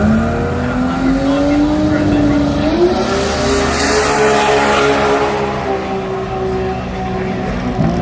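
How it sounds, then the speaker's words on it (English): Toyota Corolla drag racing on a racetrack at a jamboree event, its engine revving steadily in a rising, wavering whine from the far side of the track, heard alone at a moderate distance. "He's taking on Scott Hoffman, the Toyota Corolla, on the far side of the racetrack."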